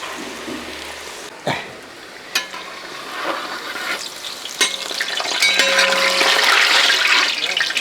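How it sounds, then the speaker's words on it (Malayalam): Cauliflower pieces deep frying in hot oil bubble and crackle up close, starting with a steady sizzle that gets louder and fuller once the pieces go in, broken by a few clinks of a utensil. "ഇനി നമുക്കിത് കുറേശ്ശായിട്ട് വറുത്തെടുക്കാം."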